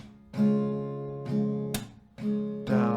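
Acoustic guitar strummed in a down, down, up, clap pattern, chords ringing with sharp percussive hits between strums, close and clear.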